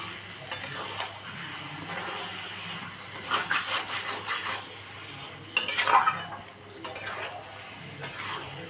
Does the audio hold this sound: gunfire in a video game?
no